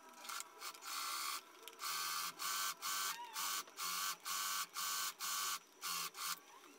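Sewing machine top stitching the seam allowance on a rugby-style polo shirt, running in short regular bursts of rapid stitching separated by brief pauses, close and alone without talk.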